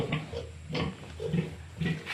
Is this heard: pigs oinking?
yes